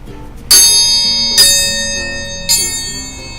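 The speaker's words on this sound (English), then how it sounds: "while you ring the triangle" Metal triangle struck three times in a children's yoga class, each bright ringing strike sustaining and slowly decaying, close and loud, with no talking.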